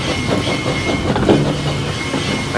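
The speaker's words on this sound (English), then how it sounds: "With a groan and a squeak, Rheneas pushed Skarloey and the maintenance train down the line." A narrow gauge steam engine pushes a maintenance train along the rails: a loud, steady rumble of rolling wheels with rhythmic clicking, a faint hiss and a thin squeal running through it.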